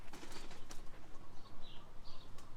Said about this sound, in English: Got some of the birds landed already.